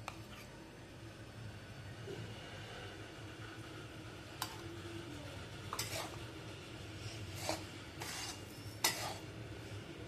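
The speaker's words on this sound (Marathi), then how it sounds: "आता आपण परत याच्यात तूप टाकून घेणार आहोत।" Besan gram flour roasting in ghee in a pan, stirred steadily with a utensil that gives a soft continuous scraping and light sizzle, with a few sharp clinks of spoon against pan.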